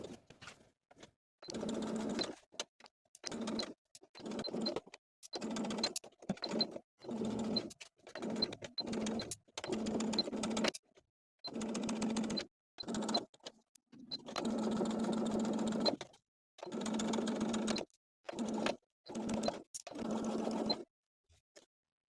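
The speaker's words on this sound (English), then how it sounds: "we're going to edge stitch vertically along both edges, primarily to secure the button loop" A sewing machine edge-stitches a summer blouse neckband and button loop in many short runs of quiet, even stitching separated by brief silent pauses, fairly faint and close.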